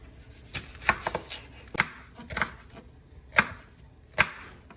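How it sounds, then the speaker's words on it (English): A knife cutting an onion into strips on a cutting board, sharp separate chops landing at an uneven pace with quieter slicing between them, close and without talk. "Take this onion. I'm gonna cut this onion up."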